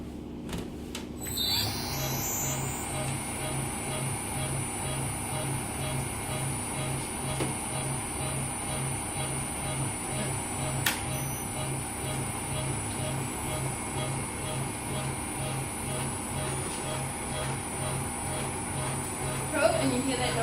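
A needle felting machine pushes through wool and fabric with a steady mechanical buzz and rapid rhythmic chatter. A high whine comes in after the start and holds throughout, and a voice speaks faintly over it.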